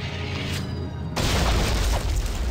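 An explosion in the Dungeon Siege video game sets off a loud, deep booming blast, with rumbling low-end noise that carries on to the end.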